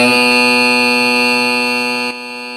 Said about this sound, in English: There's the buzzer. That's the wrong sound.